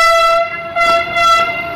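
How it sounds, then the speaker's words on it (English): Train 18 semi-high-speed train sounding its horn during a slow-speed trial run: two loud, steady tonal horn blasts, one near the start and another around the middle, held under a continuous bright tone. "That's the horn sound of the train 18."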